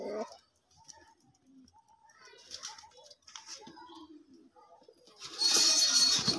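Caged pigeons, including a red-eyed female, give soft, low coos close by, with voices talking over them and a brief louder rustle near the end.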